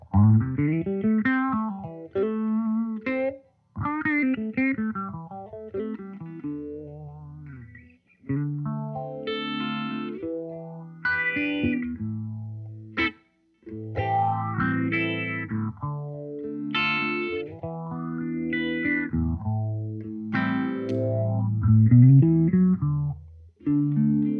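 An electric guitar plays melodic phrases through a Behringer Vintage Phaser VP1 pedal, its swirling sweep changing character as the tone switch flips from positive to negative, loud and continuous with short pauses.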